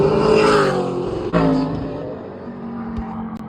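A race car on a track rolls through a turn during a lap, its loud engine droning and revving nearby, then easing and falling in pitch as it pulls away, with no talking.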